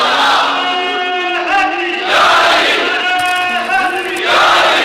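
A large religious gathering chants slogans in loud unison. Three swelling shouted phrases come in a rhythmic call-and-response pattern, close and powerful, filling the space.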